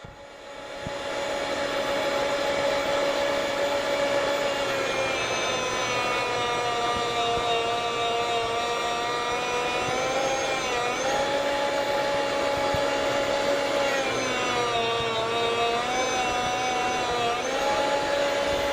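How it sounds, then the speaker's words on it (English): A Chef's Choice 610 electric food slicer runs while slicing cheese, a loud, steady motor hum with a tonal whine that dips briefly as the blade meets the cheese, heard close and continuous. "we've set our slicer to the first notch, a little bit thicker slice here"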